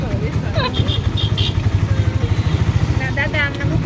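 An auto-rickshaw engine chugs with a steady, rapid mid-pitched pulse while riding, close and continuous, with people talking over it throughout.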